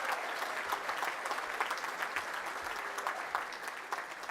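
A University of West London graduation audience breaks into steady, fairly distant applause, an even wash of many hands clapping with no voices over it.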